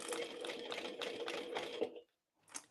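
A sewing machine bastes around the edges of a small fabric bag, giving a quick run of rapid stitching pulses, a brief stop and then a short final burst, fairly quiet.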